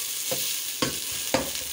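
Onions frying to golden brown in a pan for Chinese rice: a steady hiss of sizzling oil with three brief stirring scrapes, spaced about half a second apart, close up and without voices.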